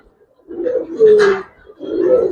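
Pigeons at a bird market in Bangladesh coo in two or three low, throaty bursts, close and fairly loud, with no one talking.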